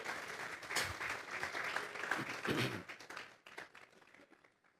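A church congregation applauds together as an offering of praise, a dense wash of clapping that swells for about three seconds and then thins and fades out.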